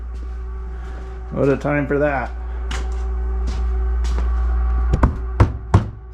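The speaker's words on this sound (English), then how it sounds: "Oh no, it's the refrigerator." A refrigerator hums in a steady low drone throughout, with people talking over it and a few sharp knocks near the end.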